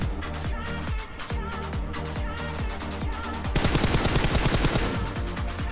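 Gunfire in the PUBG video game: rapid, steady bursts of automatic shots repeating in a fast rhythm, getting denser and louder midway.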